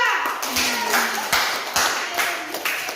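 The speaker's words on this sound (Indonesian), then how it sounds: "selamat dan tepuk tangan yang meriah untuk kelompok 2" A classroom of students claps for the winning group, uneven bursts of hand claps arriving in loose clusters with a faint voice tone underneath, close and fairly loud.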